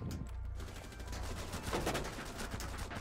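Rapid gunfire bursts from a Rainbow Six Siege match, a dense crackling volley that rattles on steadily for a few seconds with no voices over it.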